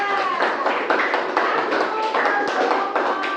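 Group 3 receives a round of applause in a classroom, with dense, continuous clapping from many hands close by, steady and lively throughout, with some voices mixed in.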